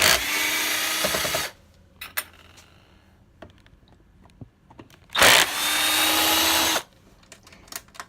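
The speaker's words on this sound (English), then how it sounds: "Got my power drill here, and there are 4 screws around the underside of the frame." A power drill whirs loudly in two long bursts while removing screws from the underside of a fishing reel's frame, with quiet clicks and handling noises between them.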